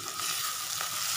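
Curry leaves dropped into hot tempering oil for a pulusu, a loud, close, continuous hissing sizzle that stays steady through the short moment.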